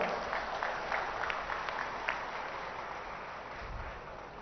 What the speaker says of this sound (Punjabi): ਤਾੜੀਆਂ ਮਾਰ ਕੇ ਥੋੜਾ ਹੌਸਲਾ ਵਧਾ ਦਿਓ